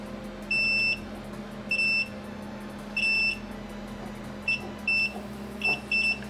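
A multimeter beeps in continuity mode while probing a Game Boy Color's circuit, giving a series of short, sharp electronic tones at irregular intervals, some brief and some held, over a steady low hum.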